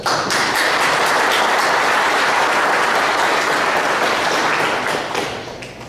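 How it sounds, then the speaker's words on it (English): An audience at an evening general meeting bursts into steady, dense applause that holds strong for about five seconds before tapering off. "I think that you guys owe yourselves a round of applause."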